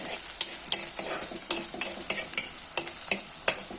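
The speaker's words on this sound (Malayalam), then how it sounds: "ഈ ഉള്ളി നല്ലപോലെ വഴറ്റിയെടുക്കണം" Onions sauté in a pan for a fried mackerel curry with a close, lively sizzle. A spoon stirs and scrapes in quick rhythmic strokes, and nobody speaks.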